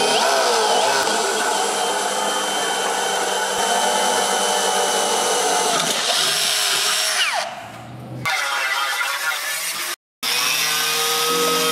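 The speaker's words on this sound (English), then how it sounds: "This is the Eastwood tungsten grinder." Eastwood tungsten grinder spinning a diamond blade against tungsten, a loud, steady high whine that holds for several seconds, then changes pitch, drops away and cuts out briefly near the end, with no talking.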